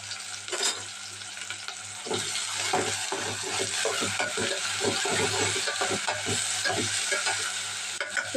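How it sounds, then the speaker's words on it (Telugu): Onions, broad beans and eggplant pieces sizzle steadily in a frying pan, with a run of close clinks and scrapes from stirring; no voices. "ఉల్లిపాయ ముక్కలో కొద్దిగా ఫ్రై అయ్యాక అప్పుడు చిక్కుడుకాయలు ఇంకా వంకాయ ముక్కలు అయితే వేసుకోవాలి"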